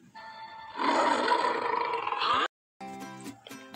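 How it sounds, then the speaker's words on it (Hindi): A lion gives a loud, close, sustained roar lasting about two seconds, then after a brief silence come a few deeper growling grunts. "अचानक से उन्हें पीछे से एक शेर की आवाज़ आई।"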